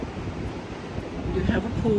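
Wind rushes steadily across an oceanfront condo balcony at Daytona Beach Shores above the Atlantic, with a continuous buffeting roar and soft surf beneath it, fairly quiet and building slightly toward the end.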